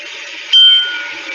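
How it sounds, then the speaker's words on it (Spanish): An electric bell rings in a classroom, a steady high tone that jumps louder partway through and then settles, sounding close and continuous over a constant background hum. "cuenten los segundos desde los timbres"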